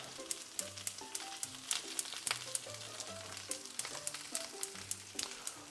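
Pear pieces and vegetables sizzling in a hot pan for a steak and broccoli meal, with a continuous crackle and sharp pops spread across the clip, quiet, under soft background music.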